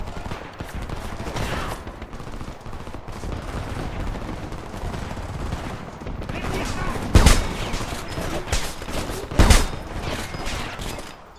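Gunfire in the shooter game Homefront, with sustained automatic bursts and two loud sharp shots standing out over a dense battle din, under shouted voices.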